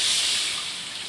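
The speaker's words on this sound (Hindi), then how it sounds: "कढ़ाई में थोड़ा सा पानी दिया मैंने" Water poured into a heated kadhai (wok) while preparing a semolina pitha, giving a short, steady hissing splash that fades slightly over about a second.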